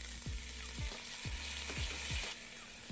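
Diced onions and minced garlic fry in vegetable oil in a pot over high heat, with a steady, soft sizzle and a few faint clinks and scrapes from stirring.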